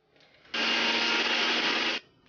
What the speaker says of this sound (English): Now in a grinder, add the onion, the peppercorn